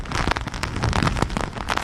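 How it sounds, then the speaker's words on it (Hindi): Heavy, steady rain and wind from Cyclone Biparjoy lash the Gujarat coast, a loud continuous roar of rain with gusty buffeting on the mic. "अभी जो हवा और बारिश है उसे देखकर ऐसा लग नहीं रहा है कि ये तूफान निकला है"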